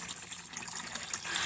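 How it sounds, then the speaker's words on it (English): Water pours into a low garden pond as a continuous close splashing gush with bubbling trickles, alone without voices. "We're filling up the pond right now because its water level is low"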